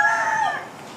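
Caged roosters crow loudly and close by, one long rising-and-falling cock-a-doodle-doo with a few clucks at the tail, no talking over it.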